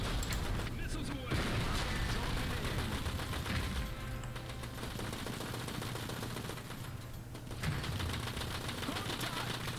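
Missiles launched in Iron Harvest, a dense rattling barrage of rapid firing and blasts across a noisy real-time strategy battle, with voices underneath.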